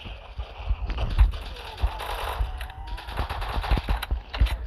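Rapid bursts of gunfire from guns in a Roblox zombie game crackle in quick irregular succession, with a faint voice briefly underneath.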